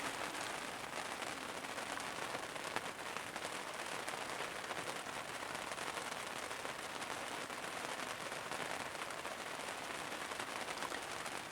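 Steady rain falls at night on a hunting campsite, a dense, even hiss of drops spattering on surfaces that holds unchanged throughout, with no voices.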